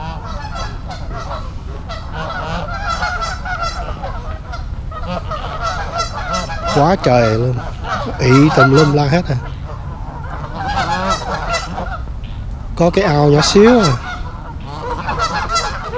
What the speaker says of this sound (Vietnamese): Một con ngỗng này nó cũng to quá chứ